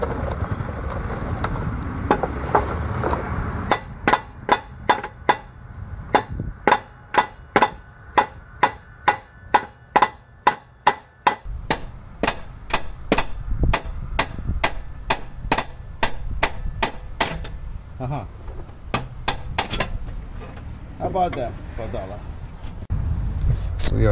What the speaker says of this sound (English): Where's my hammer?